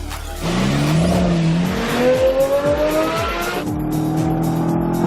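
A Corvette driven hard on a technical race track road course, engine revving and shifting through gears with rising pitch sweeps and tire squeal, loud and close with no talk.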